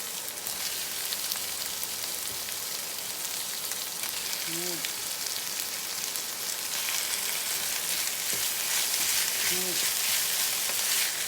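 Catfish sizzles and fries in hot oil in a wok with curry paste, a steady broadband crackle throughout with a brief voice or two in the background.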